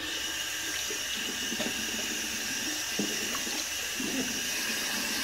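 A bathroom tap runs in a steady stream, wetting a face before a barbershop-style shave night; the flow is continuous and fairly soft, with faint splashes and no talking.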